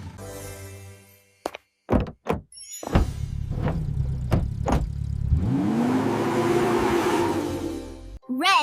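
A cartoon toy car zooms by in a toddlers' colour song about trucks and cars. A few hollow thunks come first, then a loud rising engine whir sweeps upward for several seconds.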